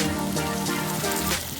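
Tomatoes frying with onions in oil for a rui fish curry, a dense steady sizzle at close range, continuous and fairly loud without talking.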